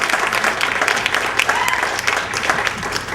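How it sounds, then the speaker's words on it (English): Applause from a dinner audience at a recognition dinner, many hands clapping steadily and fairly close throughout a short burst, with no clear talking. "Let's give her a nice round of applause."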